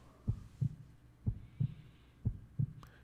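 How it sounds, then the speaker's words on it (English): A heartbeat sound effect from the video game Tales of Crestoria, with six low, soft thumps in paired lub-dub beats at a steady, slow rhythm and no talk over them. "Oh, they're doing the heartbeat noise."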